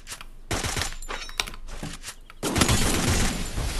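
Close-range shotgun blasts and gunfire in the mobile battle royale game Free Fire, several sharp loud bursts with a dense rattling stretch toward the end, no talk over it.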